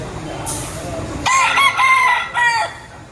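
A gamefowl rooster crows loudly and close at the Padre Garcia livestock market in Batangas, one strong harmonic call rising then breaking into a second phrase, with market chatter and crowd noise faintly around it.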